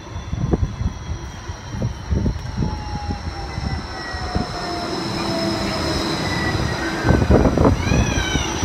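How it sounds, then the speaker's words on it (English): A G-Link tram pulls into the Nerang Street stop with a continuous rumble of rolling wheels and thin, drawn-out squeals from the rails, loud and close, a sharper rattling clatter near the end. "G-Link service 11 now arriving for service to Broadbridge South."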